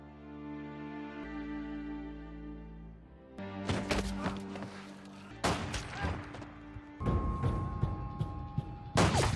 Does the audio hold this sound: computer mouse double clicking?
no